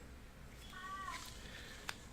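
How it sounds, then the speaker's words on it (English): A house cat gives a single faint, drawn-out meow in the background of a quiet room, followed by a brief soft click. "you might kind of hear my cat there in the background"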